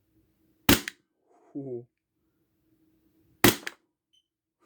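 A Glock 34 airsoft pistol fires BBs: two sharp, loud, close cracks a few seconds apart in otherwise quiet surroundings, with a brief voiced exclamation between them.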